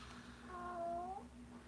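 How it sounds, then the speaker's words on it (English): A cat gives a single quiet, drawn-out meow lasting under a second over a low steady background hum, faint and somewhat distant, with no talking. "It's my cat."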